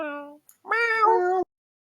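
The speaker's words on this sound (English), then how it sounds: "No, those are meows." A cat meows twice, first a short call and then a longer, louder drawn-out meow, both close and clear against silence, heard during an osu! tournament stream.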